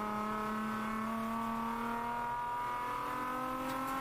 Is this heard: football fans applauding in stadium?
no